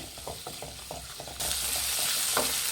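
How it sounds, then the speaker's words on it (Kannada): Tomato and spices fry for Hyderabadi chicken masala, a steady sizzle with repeated stirring scrapes, the hiss rising louder and denser halfway through, no voices. "ಇದು ಅಷ್ಟು ಫ್ರೈ ಮಾಡಿ ಟೊಮೆಟೊ ಮೆತ್ತಗಾಗಬೇಕು ಅಲ್ಲಿವರೆಗೂ ಫ್ರೈ ಮಾಡಬೇಕಾಗುತ್ತೆ"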